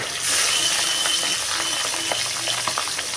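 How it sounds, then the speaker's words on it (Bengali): Pabda fish frying in hot oil in a pan, a loud continuous close sizzle and crackle with soft bubbling and no voices. "তেলটা ভালো করে গরম হয়ে গেলে এক এক করে এর মধ্যে মাছগুলো ছেড়ে ভেজে নিতে হবে"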